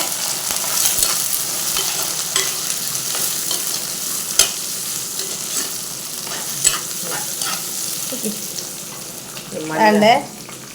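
Tilapia curry with fresh kudampuli sizzles and fries in a pan, a soft steady crackle broken by occasional sharp utensil clinks and a brief louder scraping stir near the end.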